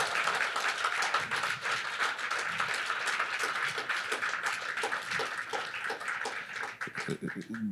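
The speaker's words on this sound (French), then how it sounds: "Donc, une grande main d'applaudissement pour madame Williams." A crowd applauds steadily, dense overlapping clapping filling the whole stretch at a fairly even level.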